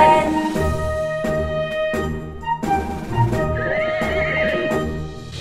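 Horses neigh and whinny repeatedly over rhythmic clip-clopping hooves, loud and close, with no voices.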